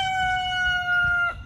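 A rooster crows once, a loud, sustained call at close range that breaks off abruptly near the end.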